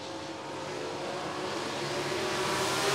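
ASCS sprint cars accelerate on the restart of an A feature at Salina Speedway, a continuous broadband roar that swells steadily over a few seconds, heard from a distance.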